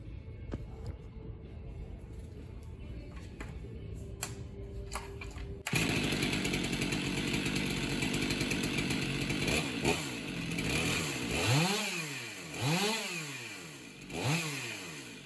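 A Stihl MS500i chainsaw idles quietly, then roars to full power and revs up and down in repeated swells, loud and close.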